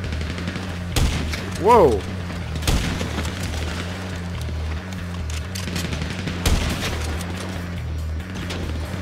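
Heavy .50 caliber gunfire in GTA V multiplayer, loud booming shots and bursts over a constant low rumble, with a few sharp cracks, while players talk and exclaim.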